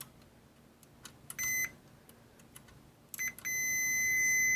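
A multimeter's continuity tester on motor starter thermal overload heaters gives short, faint beeps, then a longer steady tone that holds to the end, alone in a quiet room.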